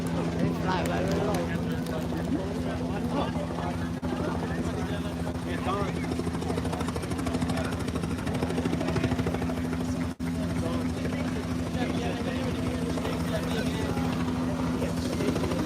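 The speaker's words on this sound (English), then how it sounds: "Now that's the distinctive sound of rotor blades you heard again." Low-flying helicopter rotor blades at a seaplane fly-in, a loud steady throbbing drone with a constant engine hum running throughout, while people talk nearby underneath it.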